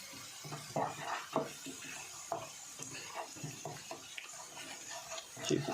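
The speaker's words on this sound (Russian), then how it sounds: "Добавляем ложку муки и хорошо перемешиваем." Garlic and a spoonful of flour stirred in a frying pan of sunflower oil, with scraping strokes and soft sizzling in an irregular rhythm, close and fairly quiet.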